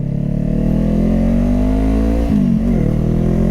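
A motorcycle pulls away in first gear, its engine close and loud with a steady rising drone, then a brief dip as the revs drop and pick up again.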